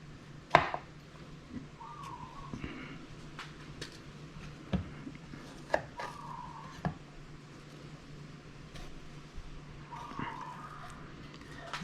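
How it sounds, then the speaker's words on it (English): A knife cuts a tomato on a cutting board while Mexican-style steak is being made, with scattered sharp taps at an unhurried, uneven pace, close and moderately loud over a faint steady background hum. "Next, cut up the tomato."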